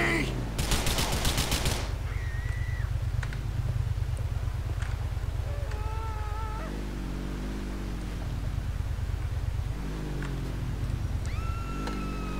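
Grand Theft Auto IV gunfire: a rapid automatic burst early on, then scattered single shots and game effects over a constant engine-like drone.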